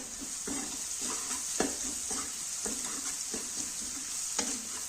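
Spices with coriander powder roasting in a pan over a low flame, a steady close sizzle with rhythmic stirring scrapes recurring every half second or so throughout.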